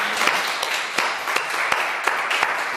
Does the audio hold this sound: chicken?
no